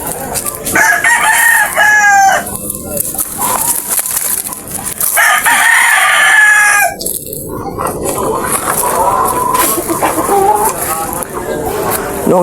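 A fighting rooster in training crows loudly and close several times, each long cock-a-doodle-doo separated by pauses, with clucking and other fowl around and someone talking between calls.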